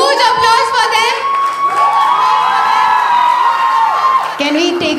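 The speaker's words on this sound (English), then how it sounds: "Can we get another huge applause for them?" Loud audience cheering, whoops and shouting fill a college day event hall, with scattered clapping beneath a continuous crowd roar and a sustained tone running through it.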